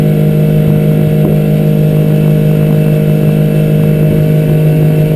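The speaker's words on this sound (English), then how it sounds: "That miss you heard was the rev limiter on the motor." An outboard motor on a 2003 Alumaweld 15-foot Stryker boat runs at full throttle on its rev limiter, a loud, steady, close drone with faint stuttering misses over rushing wind and water.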